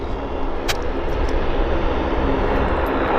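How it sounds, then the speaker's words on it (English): Small propeller airplanes at Vancouver Airport, a steady broad engine drone holding at an even loudness throughout, fairly close and alone with no talk. "Quite noisy little airplanes, aren't they?"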